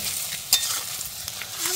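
Food is stirred and mixed in a cooking pot over the heat, a loud hissing sizzle with a few sharp scrapes and clicks from the utensil.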